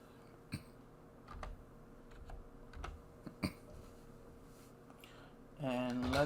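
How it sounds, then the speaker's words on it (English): Several scattered computer keyboard keystrokes tap out irregularly at close range, separated by short pauses, before a louder burst of voice near the end. "So let me just type something up"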